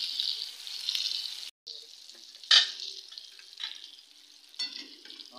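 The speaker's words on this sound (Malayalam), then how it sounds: "രണ്ടു വശവും ഒരുമാതിരി ഫ്രൈ ആയി, നന്നായിട്ടൊന്നും കൂടെ ഒന്ന് ഫ്രൈ ആകണം." Raw-shrimp vada fries in hot oil with a soft, steady hiss and crackle that cuts out for a moment, then comes back with a few sharper spits and clinks.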